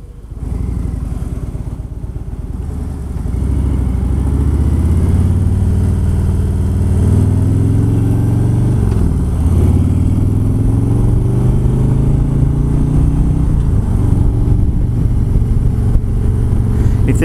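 Harley-Davidson motorcycle on an evening ride: a loud, steady low engine rumble that rises and falls gently as it cruises, heard close from the rider's position, with wind noise and no talk.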